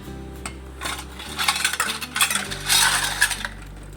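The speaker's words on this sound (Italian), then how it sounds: "mettiamo i coperchi e i pressini in acqua bollente" Metal jar lids and pressers go into a pot of boiling water, clinking and rattling against each other over a low, steady background hum.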